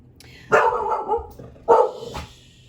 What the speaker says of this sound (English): Sorry, it's my puppy.